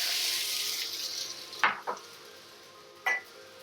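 Pan-fried noodles hiss and sizzle in a seasoned wok for Hong Kong chicken pan-fried noodles; the bright sizzle fades gradually while a few sharp metallic clanks ring out.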